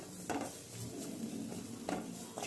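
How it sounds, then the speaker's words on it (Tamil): Garlic, green chilli, pepper and cumin sautéing in oil for milagu rasam: a soft continuous sizzle close by, with a few light scraping strokes of a spoon in the pan, no talking. "நம்ம எண்ணெயில் வதக்கிக்கலாம்."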